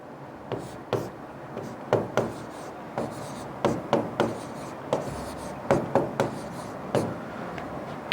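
Teacher writing a question on a classroom board, a series of sharp taps and short scraping strokes in irregular rhythm, moderately loud and close, with no talking.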